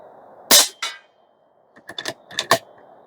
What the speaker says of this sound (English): let's go ahead and shoot 6 at that.